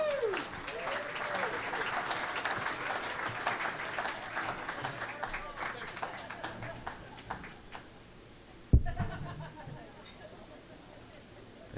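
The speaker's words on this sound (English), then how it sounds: "But let's give a round of applause to Fred Tice." A live storytelling audience claps for Fred Tice, a crowd of hands clapping steadily for several seconds and then thinning out. A sharp thump follows, and a voice speaks after it.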